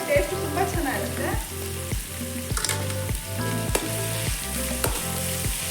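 Sliced capsicum fries on high flame for restaurant-style gobi manchurian, a loud continuous sizzle with a regular rhythm of stirring strokes and pan clatter, while a steady hum runs underneath.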